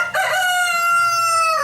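A rooster crows loudly and close up in one long, clear cock-a-doodle-doo that holds steady before trailing off.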